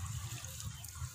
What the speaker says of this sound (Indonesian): Kita siram media tanam tadi dengan air biar mereka segera menyatu,